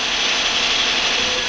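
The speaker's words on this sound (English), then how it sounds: "This engine is being turned over for the first time." A ČKD diesel locomotive engine runs on its first test turnover, producing a loud, steady, hissing mechanical roar with no change in level, much like an old film soundtrack.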